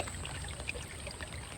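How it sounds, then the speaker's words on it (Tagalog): Strong water rushing through a canal after flooding from a typhoon, a steady broadband wash of flow with faint splashes, continuous and fairly close throughout. "So ito guys, medyo malakas yung tubig dito sa kanal."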